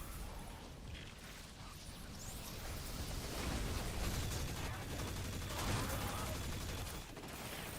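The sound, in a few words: SMG gunfire in Destiny 2 video game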